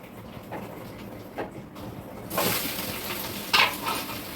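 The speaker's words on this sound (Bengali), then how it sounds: "কড়াইতে সর্ষের তেল দিয়ে দিলাম প্রথমে পরিমাণ মতন। এবার এই লাউটা দিয়ে দেব" Bottle gourd dropped into hot mustard oil in a wok, a soft burst of sizzling that swells midway and stays at a moderate level, with a few scraping stirs and no talk.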